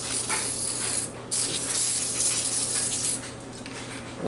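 Penetrant sprays in short hissing bursts onto the seal of a 6.2L Detroit diesel starter during reassembly, two close spray blasts with a brief pause between them.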